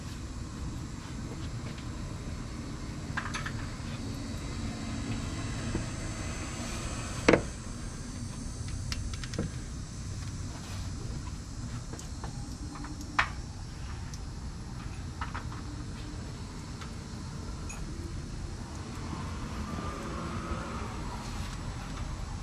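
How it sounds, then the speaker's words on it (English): Road traffic rolls past steadily on a Monday near a garage where a 2003 Hemi Ram 1500 is being worked on, a constant low rumble with two brief sharp knocks. "A lot of traffic on a Monday."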